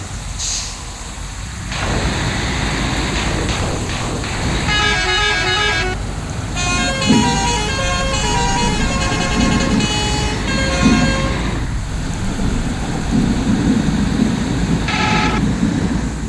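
Road traffic in a bus simulator game: a continuous engine rumble as vehicles pass, with a burst of repeated melodic horn toots in the middle and a short honk near the end.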